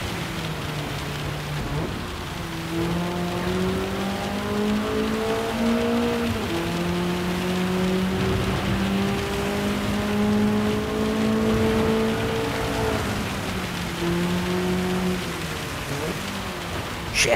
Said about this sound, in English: because the rain's that heavy, I'm really losing it here now